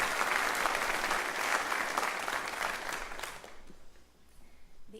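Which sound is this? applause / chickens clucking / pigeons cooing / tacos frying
applause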